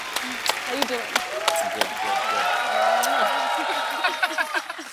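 Studio audience applause and cheering greet a singer's arrival on a Hindi comedy talk show, swelling in the middle under the host's talk and laughter.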